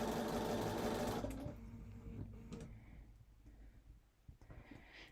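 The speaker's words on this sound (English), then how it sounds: "I sewed a few stitches in, and now I'm aligning that," A sewing machine stitching Halloween quilt fabric whirs steadily and close for about a second, then stops, leaving faint handling noises.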